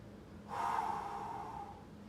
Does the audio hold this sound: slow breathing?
yes